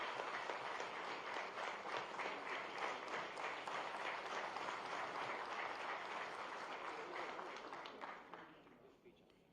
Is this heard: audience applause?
yes